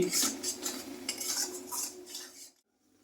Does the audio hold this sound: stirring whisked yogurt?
yes